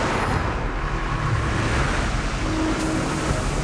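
Ocean waves and surf pounded by a hurricane storm, a loud, continuous broadband roar of churning water and wind with no breaks.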